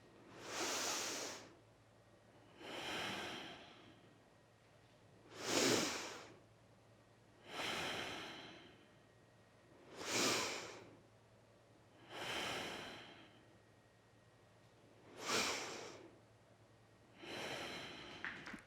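Slow, deep yoga breathing in a squatting pose: eight long, even inhales and exhales in a steady rhythm, close and clear, with no talking over them.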